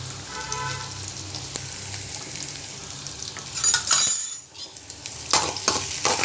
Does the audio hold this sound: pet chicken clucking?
no